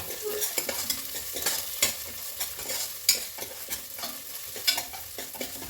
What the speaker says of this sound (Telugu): ఇందులో ఆయిల్ వేసి మనం వేయించుకుందాము ఇట్లా వేయించుకోవాలి